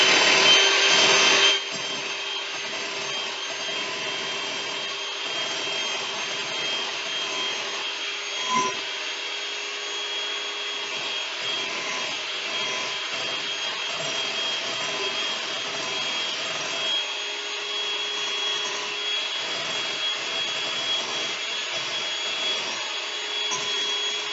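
Cloud bread batter with cornstarch being mixed toward peaks: a steady, fairly loud whirring churn that holds without a break for the whole stretch, with no voices.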